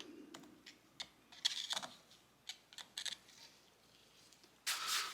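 A part seats inside the rear shock of a 2012 Kawasaki KX250F during a rebuild, giving a series of sharp, irregular small clicks and metallic ticks, close up and fairly quiet, with no talking.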